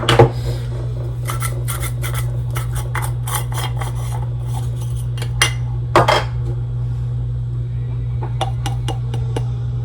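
Medication is crushed and added to a cup already holding PediaSure, with repeated gritty scraping and clinking bursts over a steady low electrical hum, close by with no talking.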